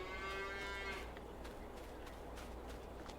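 Cows low in a barn in Farming Simulator 22, one long close moo at the start, then fading into steady low barn noise with a few clicks.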